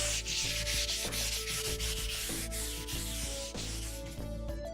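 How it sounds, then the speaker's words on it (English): Close, steady sanding of a birch wood box by hand, a continuous abrasive rubbing with rhythmic back-and-forth strokes and no talking. "First thing we're going to do is sand the box"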